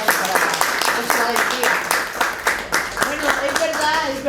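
Audience applause at a Spanish-language talk on African thought, a steady patter of many hands clapping throughout, close and fairly loud, with voices mixed in.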